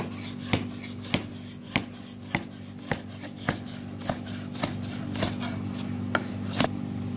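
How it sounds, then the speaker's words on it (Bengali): Knife slicing boiled octopus thinly on a board, eleven crisp evenly spaced cutting taps about half a second apart, close and clear over a steady low background hum. "আসুন আমরা অক্টোপাসটা কেটে নিয়ে পাতলা করে"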